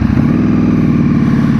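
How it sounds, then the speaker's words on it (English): A 2021 Ducati Superleggera V4 motorcycle engine drones steadily at close range, a loud, continuous low-pitched rumble with an even, fast pulsing texture and no voices. "just how phenomenal of a job Ducati has managed to create this engine"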